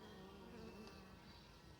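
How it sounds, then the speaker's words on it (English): Honey bees buzz in a continuous, even drone in front of their hive, soft and steady with no voices. "there's bees that don't belong, that are out in front of the hive here"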